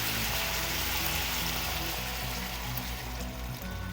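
Half a cup of water is poured into a frying pan holding a sweet and sour Filipino fish escabeche sauce with ketchup and bell pepper, making a steady, soft rushing hiss with no talk.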